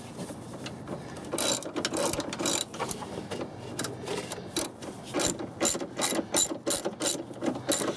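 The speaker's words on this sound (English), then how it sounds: "there's a bolt pretty much straight down in here that we can give a loosen off" A ratchet loosens the battery hold-down bolt deep in the engine bay of a 2003 Chevrolet Silverado. Rapid clicking comes in repeated close bursts, with the strokes growing quicker toward the end and no voices.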